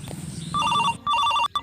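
A mobile phone rings with a repeating electronic melody in short bursts over a noisy room, the tune cutting out and restarting near the end.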